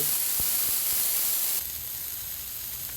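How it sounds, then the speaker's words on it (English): Steady broadband sizzling hiss of hamburgers frying on a hot Blackstone griddle, loud at first then dropping a bit quieter, with a few faint low clicks. "while those hamburgers are frying up and everything"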